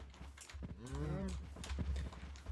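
Cattle lowing in a video game as they are bred, one drawn-out moo with clear harmonic rise and fall, moderately close and mid-volume, set among game background sounds.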